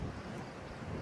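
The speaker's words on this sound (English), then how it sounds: "the wind just picked up as soon as I woke up" Morning wind gusting across open Kansas country, a continuous low rumbling roar buffeting the microphone, filling the whole moment without any voices.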